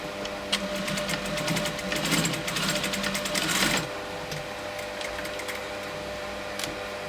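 A sewing machine stitches a pinch pleat in a rapid, close, even chatter of needle strokes for several seconds, then stops, leaving a quieter background hum with a faint click.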